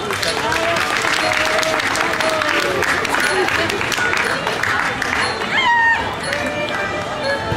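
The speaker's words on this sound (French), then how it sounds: "Applaudissez public." A crowd at the Foire de Paris applauding loudly, dense clapping mixed with cheers and scattered voices, holding steady before easing slightly near the end.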